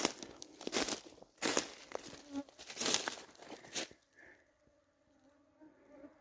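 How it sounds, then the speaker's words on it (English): A swarm of bugs buzzing outdoors, several close passes whining loudly past the microphone before fading to a fainter, more distant hum. "I've never seen the bugs so bad"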